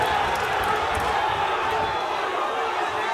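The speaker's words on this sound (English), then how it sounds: "Crowd are going crazy." Dense, steady roar of a crowd cheering and shouting at a live boxing fight (BBFS 4, Esah Shakeel vs Nabil Forde), loud and continuous throughout with no distinct pauses.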